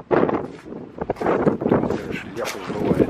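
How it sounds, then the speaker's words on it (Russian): Strong wind buffets the microphone outdoors beside a Jawa 360 motorcycle, producing loud, gusty low rumbles that surge and drop in bursts throughout. "У нас ветер такой сильный"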